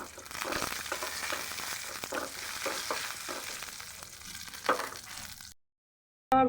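Crushed nuts frying in ghee, a close, steady sizzle with stirring scrapes for about five seconds, then a brief silence before a short clatter at the end.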